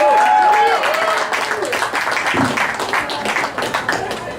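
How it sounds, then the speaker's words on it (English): Audience applause and clapping at a comedy show for a comedian, a short burst of crowd clapping that fades as a voice starts talking over it. "Thank you, everybody, for applauding as though you know who I am."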